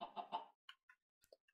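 A Minecraft chicken clucks in a few quick, close bursts, followed by faint scattered blips of game sound.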